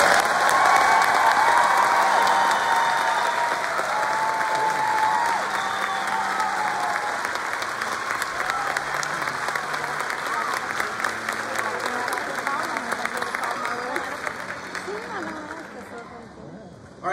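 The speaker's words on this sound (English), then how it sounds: "Let's give all of our fifth grade students and teachers one more big round of applause." A school audience applauds fifth grade students and teachers at an elementary school graduation ceremony, a long, steady wash of clapping with some cheering that slowly thins out toward the end.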